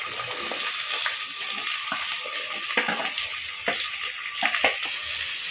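Onions sautéing in oil in a pan for keerai kootu, a steady close sizzle with occasional clicks of stirring throughout, no one talking.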